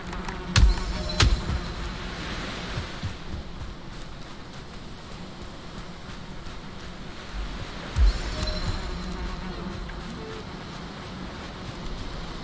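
Bees swarm around a smashed beehive in the video game Valheim, a steady, diffuse buzzing drone that runs the whole time, with a few sharp knocks near the start and one more midway.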